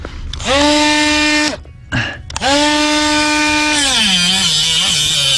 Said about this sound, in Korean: 그라인더 날이 닿잖아, 저기. 아, 좀만 자르자.